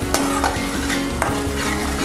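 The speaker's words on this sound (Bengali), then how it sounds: "এবার মিডিয়াম থেকে একটু লো ফ্লেমে মশলাটা খুব ভালো করে কষিয়ে নিচ্ছি" Masala for dal makhani, made without onion or garlic, stir-fried in a pot over low flame: a loud, close, steady sizzle broken by repeated scraping and clinking strokes of the spoon against the pan.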